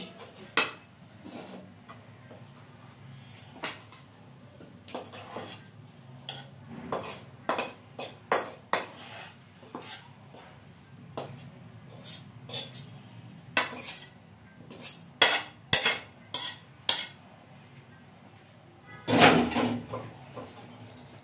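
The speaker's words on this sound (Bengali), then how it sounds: "আমি এই পাতিলটা চুলায় বসিয়ে নিয়েছি, খালি পাতিলটা" An empty metal cooking pot is set on a home stove before mung dal is toasted in it. Scattered clanks and clatters of pot and utensils come in irregular bursts, close by, with a louder cluster near the end.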